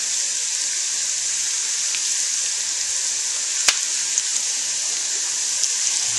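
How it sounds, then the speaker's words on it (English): Bacon pieces sizzling in a pan for warm bacon dressing, a dense bright hiss that holds steady throughout with a few small pops, close and fairly loud. "I'm going to add the bacon pieces back to the pan."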